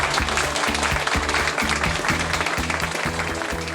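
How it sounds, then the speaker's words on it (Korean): Audience applause at a Korean cultural festival ceremony honouring an honorary committee chair, dense and steady clapping from a large crowd filling the whole stretch with a low hum of background sound beneath. "여러분 큰 박수 부탁드리겠습니다"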